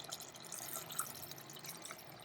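Water poured into a cooking pot of chana dal and bottle gourd: soft, low-level splashing and trickling with a few distinct drips, close by and without any voices.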